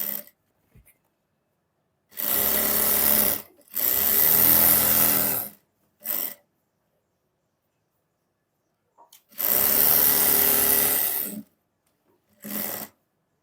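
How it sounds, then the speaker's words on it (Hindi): A sewing machine stitches along the edge of trouser fabric in several bursts, each running steadily for one to two seconds, with short quiet gaps and brief clicks between them. "यहाँ पर हमें एक सिलाई लगानी है किनारे की"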